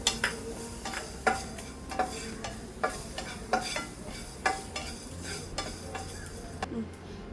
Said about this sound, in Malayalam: അപ്പോൾ ഇതൊന്ന് ചെറുതായിട്ട് ഒന്ന് വറുത്തെടുക്കണം.